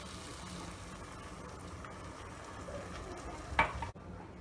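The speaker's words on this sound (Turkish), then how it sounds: "Şöyle bir karıştıralım." A carrot and spinach stew is stirred in a pot, a soft continuous bubbling and scraping with a sharper clack of the spoon near the end, quiet and close.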